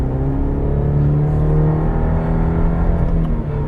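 A 2021 Cadillac CT5 Premium Luxury sedan's four-cylinder engine pulls hard at full throttle, a loud steady droning rumble with rising engine tones heard from inside the cabin.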